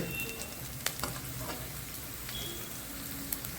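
Sesame seeds roasting with onion in a pan, a quiet, continuous sizzle broken by small crackling pops and an occasional stir, heard close and alone.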